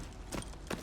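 Two soft hoof falls of a horse walking slowly in a horse video game, spaced about half a second apart, fairly close against a steady faint background hiss.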